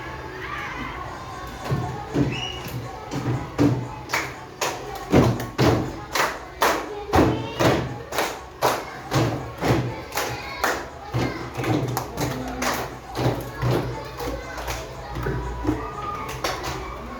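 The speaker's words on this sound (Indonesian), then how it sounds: "Ini tepuk penguin ya." A primary classroom of children doing a rhythmic penguin clap, a steady run of loud, evenly spaced claps and thumps with excited young voices and shouts mixed in throughout.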